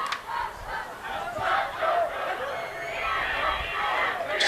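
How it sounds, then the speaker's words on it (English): Supporters of a Schaumburg Saxons soccer cheer club chant together at an MSL championship match, a rhythmic crowd chant in moderately distant waves with rising and falling shouts. "Start hearing them chant."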